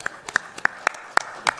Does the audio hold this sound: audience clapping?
yes